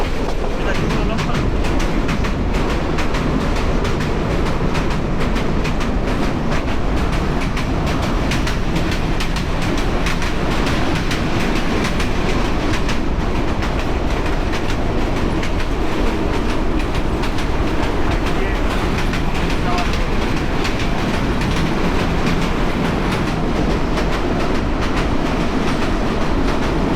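Unbroken, loud rail noise from the Kishoreganj Express intercity train moving at speed near Ghorashal, a dense roar of wheels and carriages with constant rattling and no break.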